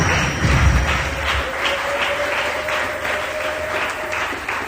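A church congregation claps and cheers for the Lord during a worship service, dense sustained applause from a crowd filling the room, loudest at the start and continuing steadily throughout.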